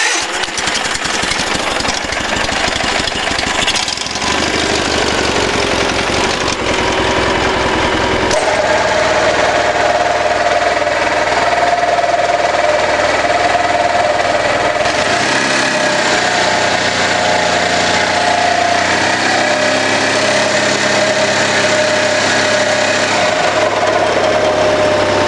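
An old Gravely tractor engine runs rough and will not idle up. It keeps a loud, continuous mechanical chatter with a buzzing drone whose pitch and roughness shift several times over the stretch, with no voices.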